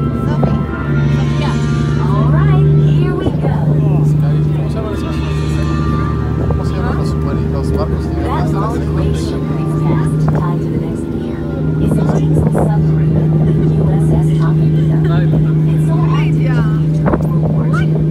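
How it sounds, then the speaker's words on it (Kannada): Cruise boat underway on San Francisco Bay near the Golden Gate Bridge, a steady engine drone and wind buffeting the microphone throughout, with people talking over it the whole time. "ಸೊ ನಮ್ಮ ಕ್ರೂಸ್ ರೈಡ್ ಸ್ಟಾರ್ಟ್ ಆಯಿತು"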